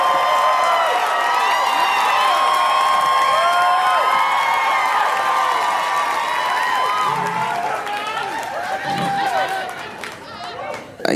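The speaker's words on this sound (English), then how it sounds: "Start clapping right now for your and my good friend, Josh Johnson, everybody." A comedy club audience claps and cheers for comedian Josh Johnson, a dense sustained roar of applause with whoops that tapers off near the end.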